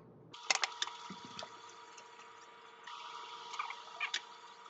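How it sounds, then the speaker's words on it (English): A peeled hard-boiled egg is rinsed under a faint trickle of tap water for potato salad, with soft splashing, patter and a few small knocks against the sink or bowl. "Rinse that one off, plop it in."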